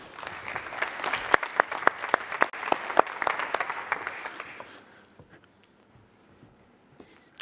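An audience applauds as a speaker walks onto the stage at a talk on free speech. A dense round of clapping with a few sharp standout claps fades out after about five seconds, and a few scattered sounds follow in near quiet.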